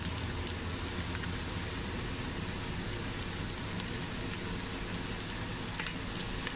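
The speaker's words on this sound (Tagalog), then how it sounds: "Ngayon, magigisa. Lagay ko itong onion." Onion, red and white, and garlic sautéing in a pan for chicken thigh with cashew: a steady, dense sizzle and crackle running evenly throughout, fairly quiet and with no voice.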